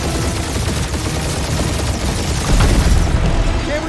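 Ship guns firing in the Guardians of the Galaxy video game, a dense, loud barrage of rumbling blasts and rattling shots that swells near the end, with a voice faintly present.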